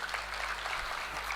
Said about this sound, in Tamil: ஒரு கைத்தட்டல் கொடுத்துருங்க